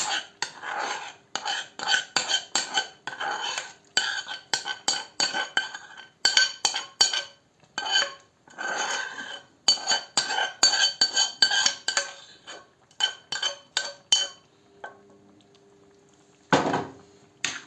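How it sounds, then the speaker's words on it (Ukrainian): Mushroom chanakhi in a pot being stirred after fried dressing is poured in, heard as a long run of close, busy clinks and scrapes of a utensil against the pot, with brief pauses and a louder knock near the end. "І розмішуємо."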